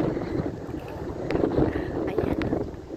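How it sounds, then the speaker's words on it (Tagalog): Steady outdoor wind in Lohas Park, Hong Kong, buffets the microphone with a low, rushing rumble and occasional gusts, no voices. "medyo mahangin dito sa park."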